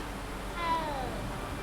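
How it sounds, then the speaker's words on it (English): A cat in a Harry Potter video game gives a single soft, drawn-out meow over a low, steady game background. "Another kitty cat!"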